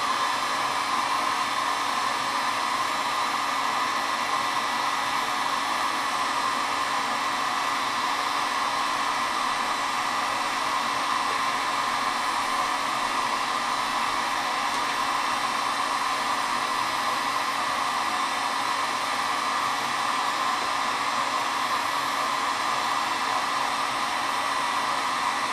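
A heat gun or hair-dryer-style blower runs steadily on a PC acrylic tube to soften it before bending, a continuous even whoosh of airflow that stays constant and close throughout with no talking.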